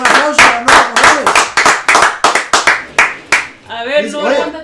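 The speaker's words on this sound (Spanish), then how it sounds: "un aplauso para Nora Corrales" Steady rhythmic hand clapping from a small group at a live-streamed show, loud and close, with a voice briefly talking over the end.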